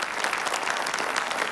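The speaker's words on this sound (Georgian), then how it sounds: "აპლოდისმენტებს იმსახურებს ეს ამბავი." An audience breaks into dense, even applause, many hands clapping at once in a steady unbroken patter for a moment.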